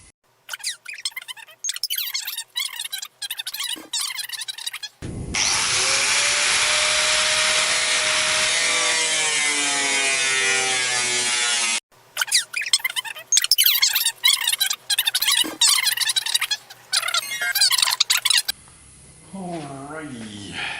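A power tool cuts through the bonnet skin of a Toyota Landcruiser 200 Series while a bonnet scoop is fitted. A loud, continuous whining cut of several seconds sits between shorter bursts of scraping and handling noise.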